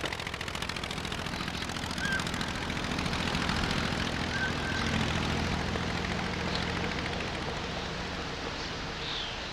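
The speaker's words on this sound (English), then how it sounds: "The Anzani engine of Blériot's plane ran perfectly" A Blériot monoplane with an Anzani engine and propeller in flight gives a continuous, loud, buzzing engine drone that holds steady throughout.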